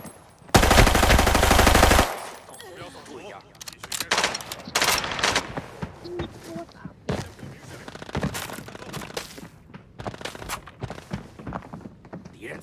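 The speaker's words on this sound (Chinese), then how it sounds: "向弹道方向射击" Gunfire in the shooter game Arena Breakout, set on the second floor of a TV station. A loud sustained automatic burst opens, followed by scattered single shots, thuds and footsteps.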